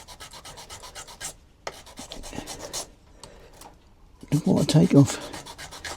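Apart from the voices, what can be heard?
fine sandpaper sanding a fishing rod end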